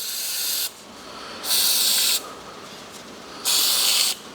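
Lubricant sprayed onto a John Deere diesel injection pump head comes in three short, loud aerosol hisses, each under a second long and separated by quiet gaps.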